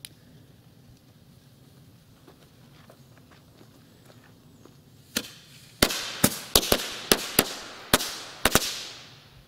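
A run of sharp firecracker bangs from an old firecracker, about eight sharp cracks in quick irregular succession, loud and close, peaking at 101.9 dB, after several seconds of quiet background rustling; fireworks in Luxembourg.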